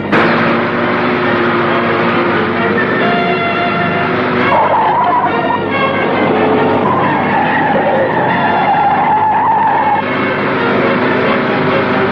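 A car tears away at speed during a police chase in a 1958 Hindi film, its loud, steady engine roar running the whole time with squealing, skid-like sweeps in the middle and no voices.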